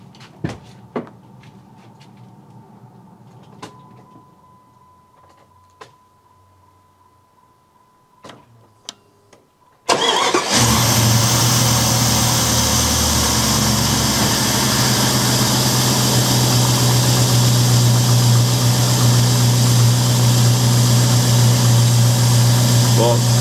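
A car engine fitted with E85 ethanol injectors, heard first as quiet ticks and clicks, then the engine cranking and catching abruptly into a loud, steady idle that runs to the end.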